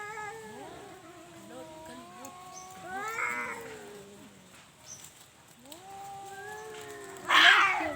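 A cat meows and caterwauls in drawn-out, wavering yowls, close and fairly loud, with a sharper, harsher cry near the end and quiet voices in the background.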